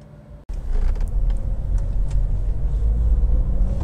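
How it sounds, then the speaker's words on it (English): A Volvo C30 2.0 R-Design two-door is heard from inside on a road drive, a low steady engine and road rumble starting abruptly after a brief quiet moment and continuing evenly with faint interior rattles. "this is a quick road test video, and this is for a Volvo C30"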